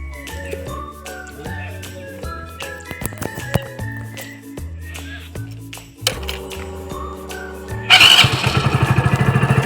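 After some clicks and rattling, a motorcycle engine kicks into life near the end and settles into a loud, rapid putter close by.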